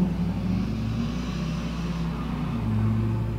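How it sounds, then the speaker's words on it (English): Steady low rumble of cars on a close roadside road, a continuous traffic drone with a slight swell near the end, no voices. "Sorry for all the cars"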